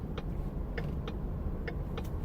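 Interior of a parked or moving car, a quiet steady low cabin hum with several faint short clicks or taps scattered through, no voices.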